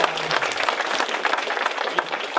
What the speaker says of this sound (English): if I can give a round of applause.